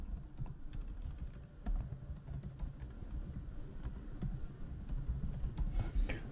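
Quick, light keystrokes on a computer keyboard as a password is entered, an irregular patter of close clicks and taps over faint background hum, with no one speaking.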